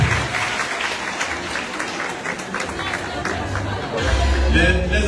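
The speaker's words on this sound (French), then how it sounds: "On peut l'applaudir, mesdames et messieurs." Conference audience applauds loudly, a dense sustained burst of clapping with crowd murmur, swelling near the end.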